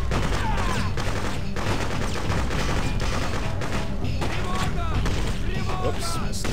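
Sniper rifle fire in the video game Freedom Fighters, with repeated loud shots and blasts mixed into dense, continuous battle gunfire throughout.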